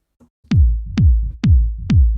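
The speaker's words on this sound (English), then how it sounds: "there you go, Techno Kick and Bass using 1 sample" Four punchy techno kicks with booming bass tails, built from a single sample in Ableton, land in a steady, evenly spaced pulse, loud and dry, with no voices.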